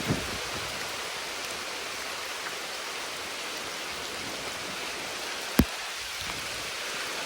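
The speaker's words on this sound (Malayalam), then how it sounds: "നല്ല മഴ ഇത്." Heavy rain pours down in a dense forest as a loud, continuous hiss with no letup, broken only by one sharp knock near the end.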